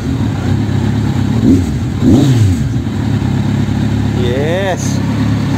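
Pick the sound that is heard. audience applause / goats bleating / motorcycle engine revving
motorcycle engine revving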